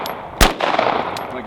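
A single sharp 9mm shot rings out, with a short metallic ring from the steel target and an outdoor range tail, fairly loud.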